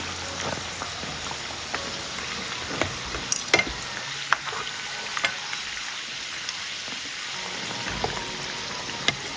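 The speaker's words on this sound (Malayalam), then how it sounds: "ബാക്കിയിരിക്കുന്നതും ഇതുപോലെ തന്നെ നമുക്ക് ഫ്രൈ ചെയ്തിട്ടെടുക്കാം" Evening snack pieces deep-frying in hot oil until golden brown, a dense, steady sizzle with crackling pops and bubbling throughout, close and moderately loud, no talking.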